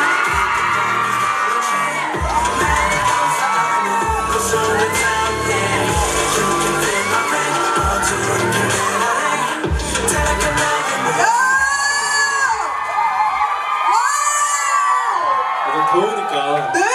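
Fans at a K-pop comeback showcase cheer and shout loudly in repeated bursts, with high screams rising over the crowd noise and voices talking in between.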